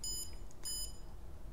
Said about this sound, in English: You can turn off the beep, which is kind of nice.